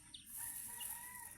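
Soft, brief clucking from a chicken, faint and close, with a steady high hiss of insects in the background.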